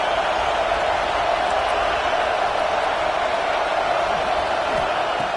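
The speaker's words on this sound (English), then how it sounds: "this crowd is fired up. Listen to this noise here" Steady, dense roar of a stadium crowd in a football video game, a continuous broadband wash of voices with no breaks or distinct peaks, sustained at even loudness throughout.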